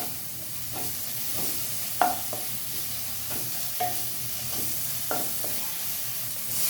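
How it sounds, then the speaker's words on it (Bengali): Garlic-based spice masala for palak paneer frying in a pan, a continuous close sizzle with several distinct scrapes and clacks of a stirring spoon at irregular intervals; no voices. "মশলাটা পুরো কষা হয়ে গেছে"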